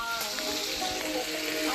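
Meat for jambalaya sizzles and crackles steadily as it fries and caramelizes in a pan, a close, continuous hiss with small pops and no speech.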